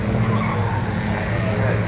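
A junior rally car climbs uphill on a stage of the McRae Rally Challenge, its engine a dense, loud, steady roar with gravel and tyre noise, close by and continuous over a short stretch.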